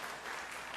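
Church congregation at a Korean Sunday worship service clapping to welcome newly registered members, a brief steady wash of many hands with no voices.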